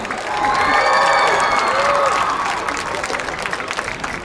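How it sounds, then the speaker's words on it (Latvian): Outdoor concert crowd on a town square gives the girls a sustained burst of loud clapping and cheering that swells, then tapers over several seconds, with some shouting and voices mixed in. "Vēlreiz aplaus meitenēm!"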